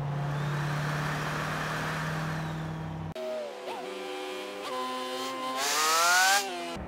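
A Dodge Viper's engine in the racing game Forza Horizon 3 drones steadily, then revs hard through several rising and falling pitch sweeps, loud and close.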